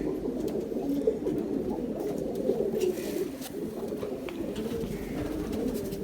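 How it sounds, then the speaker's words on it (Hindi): A pet pigeon in a cage coos steadily, close and fairly loud, with low rolling calls that repeat without a break. "बड़ा शानदार कबूतर है, बड़ा वफादार ईमानदार।"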